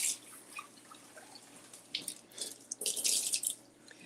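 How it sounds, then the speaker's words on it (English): Cherry tomatoes rinsed under a running kitchen tap: quiet, steady trickling water with small splashes and drips, swelling to a louder gush near the end, without any talking. "We're going to give them a quick rinse, and then we're going to cut them in half."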